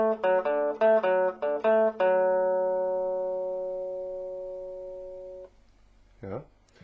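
A rockabilly electric guitar lick: a quick run of plucked notes on the first, fifth and third of the scale ends in a long decaying held note, followed by a brief voice.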